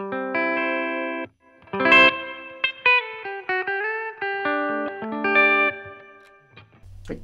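An electric guitar through a Line 6 Catalyst amp plays chords and single notes drenched in the amp's reverb, the notes ringing out and trailing off after each phrase.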